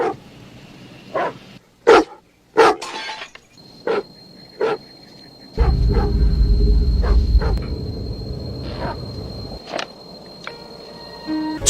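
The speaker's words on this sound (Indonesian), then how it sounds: "si asu terus menggonggong tidak jelas." A dog barks repeatedly in short, sharp bursts, loud and close, with a few yips among them, and a low rumbling noise rises underneath partway through.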